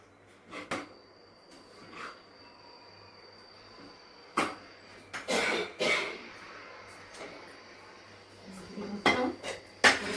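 A spoon stirs salt into payasam in a pot, giving scattered soft clinks and scrapes against the metal amid quiet pauses, with a cough in between.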